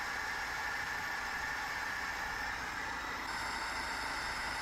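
Lada Niva 2121 carburetor engine idling during servicing, a faint, even hum with a steady hiss and no change in rhythm, heard alone with no talking.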